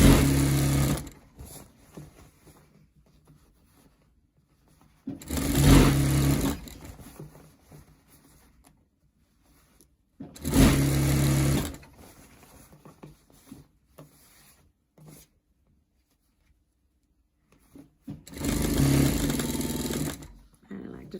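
A sewing machine runs in three separate bursts as it stitches around a fabric scrub hat, each burst a close whirring of a few seconds, with quiet gaps between them.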